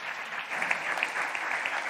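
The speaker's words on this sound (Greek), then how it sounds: "Ένα χειροκρότημα." A conference audience gives a short burst of steady, moderately loud applause.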